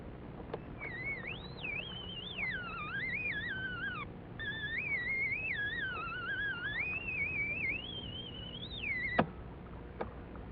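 Recorded current from waves crashing into surge channels, heard as a higher tone that rises and falls and sweeps unevenly in pitch, with soft whistling over a low background rumble and a single sharp click near the end.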